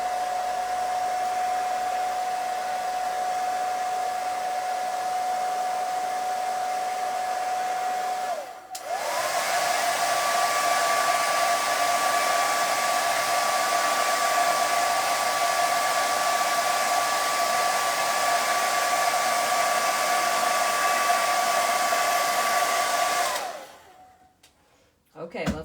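A hair dryer blows steadily to dry paint on a bistro sign: a loud, continuous whirring hum that briefly dips and shifts pitch partway through, then runs on before cutting off near the end.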